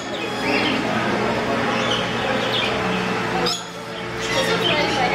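Birds chirp and squawk in a zoo bird exhibit cage, a dense, busy chatter close around, with people talking over it.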